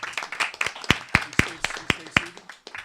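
Sparse applause from a small audience at a city council candidates forum, several distinct hand claps spaced irregularly, with faint voices murmuring underneath.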